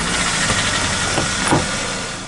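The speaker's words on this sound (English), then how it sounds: "After successfully activating the engine with a USB cord, Swervo's on the move" A 2010 Kia Forte's engine runs, a steady, loud, broadband idle with a few small bumps. It holds without any voices.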